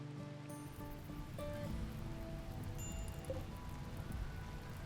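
Steady rain patters in the video game The Rim of Time, a dense even hiss of falling drops at moderate volume, with a few faint tonal blips from the game drifting over it.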